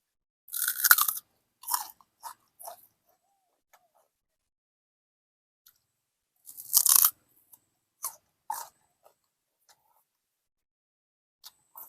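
Someone bites into and chews a giant raw papaya, producing two clusters of crisp, juicy crunches a few seconds apart, each followed by quieter chewing clicks, with silence between and no speech.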